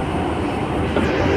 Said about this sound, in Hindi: मेट्रो जा रही है सामने